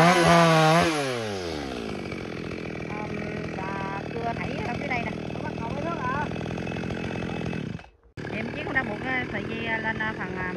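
Chainsaw cutting into the base of a large eucalyptus tree outdoors, a loud steady engine drone with revving and a brief cut-out near the end before restarting, voices faintly audible beneath.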